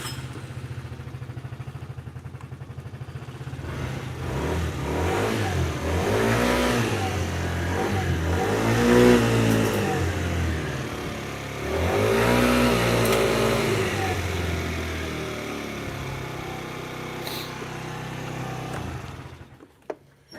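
A moped engine revs repeatedly on a test ride, rising and falling in two long surges, moderately loud and steady, with no talk.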